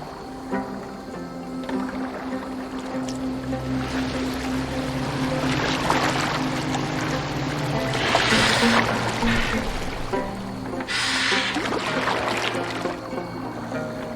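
A wooden boat moving through water in Assassin's Creed Valhalla, with a steady wash and splashing of water along the hull and a few stronger surges, continuous and close.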